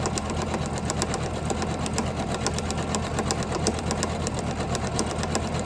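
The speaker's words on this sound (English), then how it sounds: "Janome is a really good machine." A Janome 500e embroidery machine stitching a napkin, a steady fast mechanical whir with rapid regular needle ticks, close and continuous with no talking.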